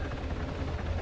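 Military helicopter in a combat video game, a steady low rotor drone filling the whole short stretch.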